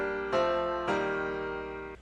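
An emotional chord progression plays on a synth in FL Studio, with three sustained chords struck in sequence, each ringing out and slowly fading.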